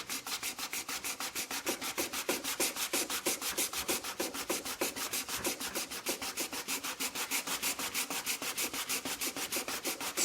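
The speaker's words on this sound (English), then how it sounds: "I'm going to go ahead and sand that down." Hardened filler on wood being sanded down by hand, a rapid, even run of rasping strokes that continues steadily for about ten seconds, close and without talk.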